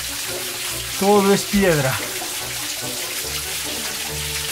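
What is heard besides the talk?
water driving an old stone mill's wheel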